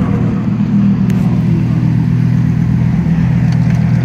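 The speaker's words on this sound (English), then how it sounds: "That was a nice sound of C8." Chevrolet Corvette C8 engine droning loudly and steadily nearby at a street-side cars-and-coffee gathering, a deep sustained tone with traffic noise underneath.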